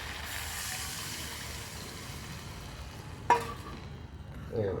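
Paneer and its soaking water go into a hot pan and get stirred, giving a steady wet sizzle and scraping, with a sharp clatter midway and a rising bubbling hiss at the end.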